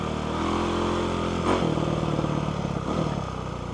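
A 2008 Kawasaki KX450F dirt bike engine runs steadily nearby, with a brief surge and a throttle blip partway through, outdoors with no talking.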